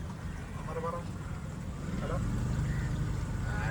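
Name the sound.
backwater boat ride in Poovar, Kerala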